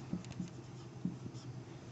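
Faint scratching of a pen or marker writing an angle label during a geometry class on lines and angles, a few soft separate strokes close to the microphone with no talking.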